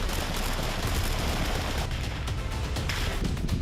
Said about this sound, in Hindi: कहीं बंदूक की गोलियां बारूद उगलने लगती हैं